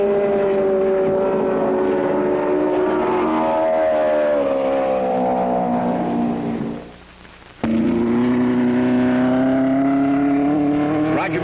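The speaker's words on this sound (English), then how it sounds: "this exciting National Championship Indianapolis car race" Open-wheel Indianapolis-type cars in a National Championship race, the Rex Mays 300, roaring past with loud rising and falling engine whines, a brief dip near the end before the engine noise returns full.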